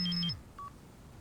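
Cellphone dialing tones: a short run of bright electronic beeps in quick succession, followed by one brief fainter tone, clear and close with no talking.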